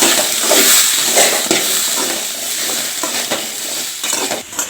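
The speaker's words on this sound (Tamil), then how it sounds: "இப்போ வந்து வெங்காயம் வதங்க ஆரம்பிச்சிருச்சுங்க." Onion and tomato sauté in a pan for a country chicken curry, giving a loud, steady sizzle with stirring scrapes throughout and no voices.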